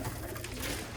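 Racing pigeons coo softly in a loft of breeder hens, a brief low murmuring coo heard close and alone.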